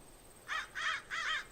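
Blackbirds calling around a cornfield: three harsh, evenly spaced caws in a row, moderately distant and fairly quiet against a still background.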